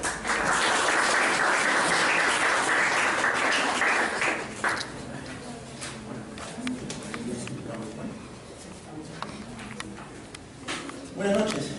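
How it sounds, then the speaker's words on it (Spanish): Evening lecture audience greeting a speaker with strong applause, dense clapping for about four seconds that then fades under a voice, with a short burst of clapping near the end. "Los recibimos con un fuerte voto de aplauso"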